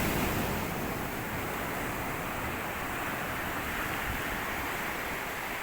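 Sea waves at a provincial beach in the Philippines make a continuous, moderately loud wash of surf, with a breezy hiss and no voices.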